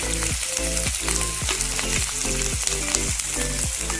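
Cabbage, capsicum and other vegetables stir-fry for chop suey in a loud, continuous sizzle with a dense hiss, while regular rhythmic tonal sweeps recur alongside it.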